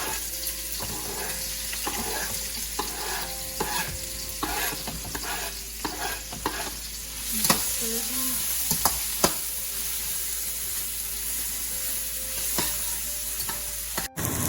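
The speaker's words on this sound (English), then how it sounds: "I cut my onions, so I'm gonna throw these in first so that they turn a little golden brown." Chopped onions sizzle steadily in hot oil in a pan for lasagna, a continuous crackling hiss broken by stirring scrapes and small clicks, close and moderately quiet, with no one talking.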